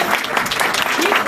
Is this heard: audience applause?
yes